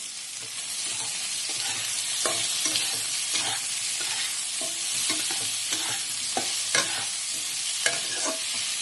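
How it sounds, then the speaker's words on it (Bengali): Soybean chunks, potato and freshly added chopped tomato frying in a pan while being stirred, a close steady sizzle broken by repeated scraping clicks of the spoon. "সয়াবিনটা আলুটা ভালো মতো ভাজা হয়ে গেছে। এবার আমি কেটে রাখা টমেটোটা দিয়ে দেবো।"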